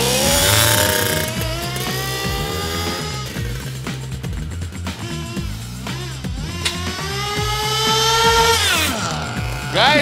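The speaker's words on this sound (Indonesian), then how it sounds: "Motor 2 tak lawan mobil RC Bensin" A two-stroke motorcycle races a petrol-engine RC car, their engines droning loud and close with shifting, rising pitch throughout, briefly dipping midway before climbing again.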